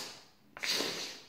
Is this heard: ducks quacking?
no